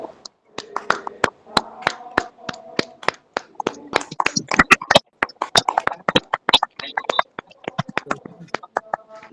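Congregation at a women's fellowship prayer meeting clapping in thanks, a dense run of sharp claps that swells and thins over several seconds, with voices mixed in beneath.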